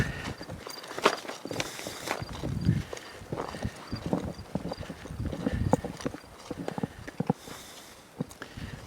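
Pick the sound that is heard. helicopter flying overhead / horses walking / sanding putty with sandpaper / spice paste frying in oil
horses walking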